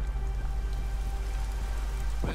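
Steady rain falls in the video game Diablo 3, a dense continuous patter that holds evenly throughout, with a short sweeping tone near the end.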